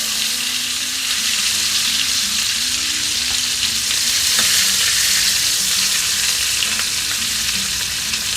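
Meat sizzles steadily in a hot pan over high heat after being flipped, a dense, even frying hiss with faint low hum, continuous and close throughout with no talking.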